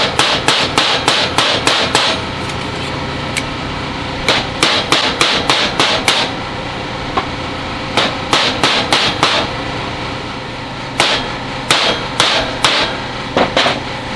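A mallet hammers around the edge of a homemade metal dimple plate, loud sharp strikes coming in quick bursts of five or six blows separated by short pauses, with no talk.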